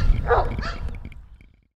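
A husky pup gives a single short, close bark that trails off into a brief whimpering tail, out on a long walk.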